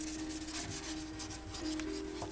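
Hand sanding on a Yamaha RZ 350 fuel tank during restoration, a quick series of short rhythmic rubbing strokes close by over a faint steady hum.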